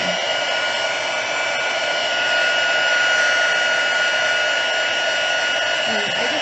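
Heat embossing tool blowing hot air during card making, a steady continuous whir with a whining tone, close and loud throughout with no pauses.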